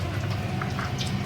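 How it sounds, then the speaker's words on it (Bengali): Bay leaf, white cumin and garam masala sizzle in hot oil for a tempering, a steady close crackle and hiss with a few faint pops and no talking. "ফোড়ন দিচ্ছি।"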